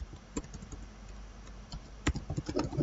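Typing on a computer keyboard, with scattered key clicks early and a quicker, louder run of keystrokes toward the end, close and alone without speech.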